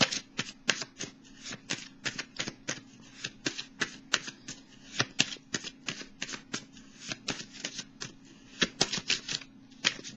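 Oracle cards being shuffled and drawn for an intuitive-soul oracle reading, a steady run of crisp, close riffling snaps and slaps repeating rapidly throughout, with no voices.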